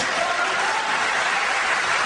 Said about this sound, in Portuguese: Aplauda Jesus por eles.